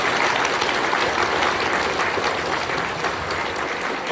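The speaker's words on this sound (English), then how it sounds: "Another round of applause for these guys today." Audience at a comics publisher's convention panel applauding steadily, a dense, loud wash of clapping that holds for the whole span with no talk over it.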